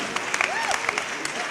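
Audience applause at the My Brothers Keeper opening ceremony in Buffalo, a short burst of clapping heard through speech.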